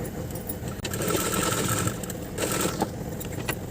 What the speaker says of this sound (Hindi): इस तरीके से अब हम इसमें सिलाई लगा देती हूँ।